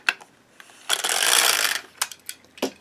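LK150 knitting machine carriage sliding across a row with the Weave-R attachment, a close mechanical swish of about a second framed by short clicks and clacks.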